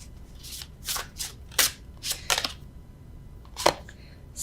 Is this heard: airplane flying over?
no